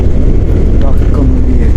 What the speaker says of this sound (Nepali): खत्रै स्पिडमा प्लेन गुडिसक्यो